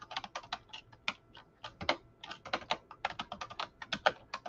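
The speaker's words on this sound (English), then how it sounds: "I'm gonna type in Cecilia" Rapid keystrokes on a computer keyboard as a person's name is typed in, a close, crisp run of clicks in quick irregular bursts with no voices.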